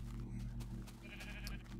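A sheep bleats a few times, faint and somewhat distant, over a low steady rumble.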